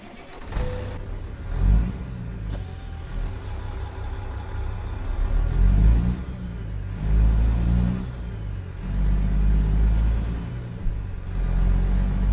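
A Freightliner FLD truck with a CAT 3406E engine in American Truck Simulator rumbles and revs steadily, the low engine drone swelling and easing through gear changes, loud and continuous with no voices.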